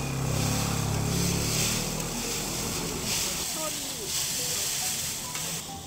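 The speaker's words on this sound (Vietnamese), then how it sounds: "Tiếng mì xào nghe đã rồi, nó xèo xèo xèo xèo luôn á" Glass noodles stir-fried at a Myeongdong street food stall hiss and sizzle loudly up close, the frying fading slightly as utensils scrape and tap the pan, with busy street noise around.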